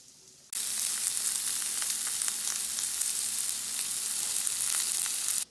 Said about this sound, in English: So get them in there, nice sear.